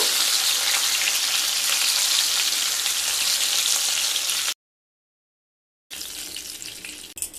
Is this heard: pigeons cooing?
no